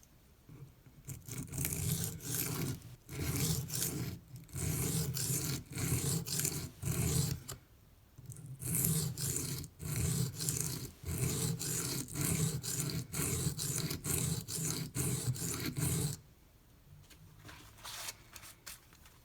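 A Microtech UTX-70 knife blade rubs back and forth across Venev pocket diamond stones in long rhythmic strokes, a close gritty scraping repeated with short pauses between sets and quieter at the end.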